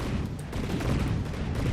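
Cannons on a vessel in the naval combat game From the Depths fire in a dense, continuous barrage, a rumbling wash of booms and blasts with no pauses, loud and close.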